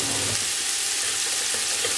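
Oil sizzles steadily in a hot pot on medium heat before onion, celery, peppers and jalapeno go in for jambalaya, a continuous close frying hiss with no talk.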